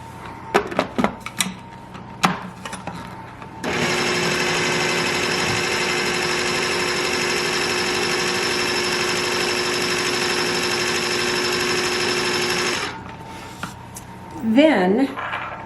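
Pumpkin pie filling blended after eggs are added, an electric mixer whirring at a steady loud hum for about nine seconds, bracketed by clinks and a brief voice afterward.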